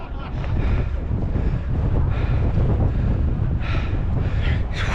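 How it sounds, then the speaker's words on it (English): Steady, roaring wind buffets the microphone on the cold summit of the Brocken mountain, a constant loud rush with gusty swells and no other clear sounds. "It's windy and cold"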